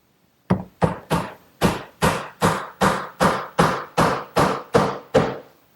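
A 3/8-inch birch dowel is hammered into a glued hole in a wooden garden bench, twelve sharp, close blows struck in a steady, even rhythm with short pauses between them.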